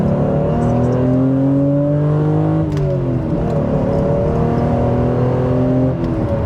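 A stock naturally aspirated Toyota Supra pulling hard in second gear, the engine note climbing steadily, dipping briefly, then rising again, heard loud and close from inside the cabin without talk.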